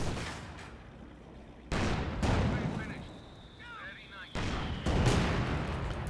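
Machine gun and battle fire in Company of Heroes 2, loud bursts of gunfire and explosions arriving in heavy waves with brief lulls between them, with voices talking in the game.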